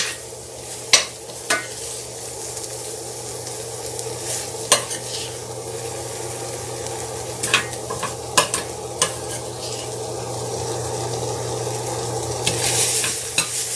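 Vegetables and bacon crackle in a frying pan with a constant close sizzle and hum, while a spoon stirs them in a few sharp scrapes and taps, alone without talk.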